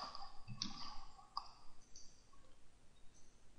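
A few faint, crisp mouse clicks while working in PowerPoint, scattered and irregular over a quiet room background.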